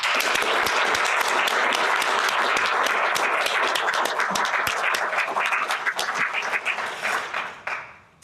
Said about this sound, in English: join me in giving Joe a much-deserved round of applause.